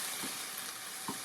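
Onions softening in a pot for a vegan korma, with a soft, steady sizzle and two faint stirring scrapes, close and quiet with no voices.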